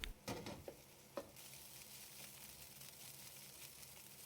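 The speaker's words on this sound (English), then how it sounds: "Stir fry to break up the egg and separate all the rice grains." Egg and cooked rice stir-fried over high heat with chicken and mushrooms, a few sharp scrapes and clacks of a utensil in the pan at the start, then a steady soft sizzle.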